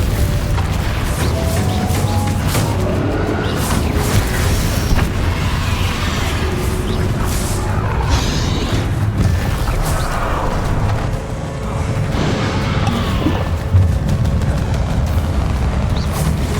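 Heavy, repeated booms and bursts crash through a spell-casting battle in Hogwarts Legacy, where the Confringo fire spell explodes over and over amid a dense, loud rumble of combat effects.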